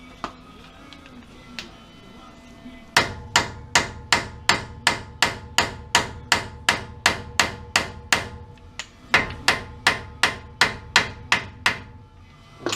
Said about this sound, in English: Maybe we'll get a sledgehammer for this one.